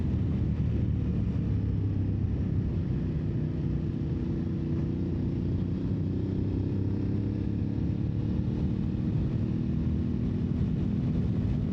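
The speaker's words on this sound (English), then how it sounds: "You can definitely hear that Italian airbox on this bike." An Aprilia Tuareg 660 adventure motorcycle rides up a mountain road, its engine and Italian airbox intake giving a steady, close, droning rumble that rises slightly in pitch toward the end, with no talk.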